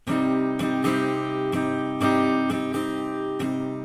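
Acoustic guitar chords ring out cleanly, each struck chord sustaining briefly before the next in a steady pattern, with no claps, played alone and close.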